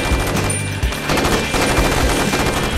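Sustained machine gun fire from a scene in the film The Spirit, a loud, dense fusillade of rapid shots running continuously with no speech.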